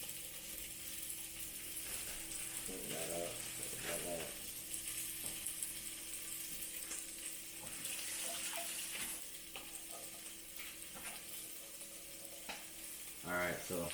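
Lean ground beef (96% lean) frying in a pan and being stirred, with a steady soft sizzle and intermittent scraping stir sounds, fairly quiet, no talking.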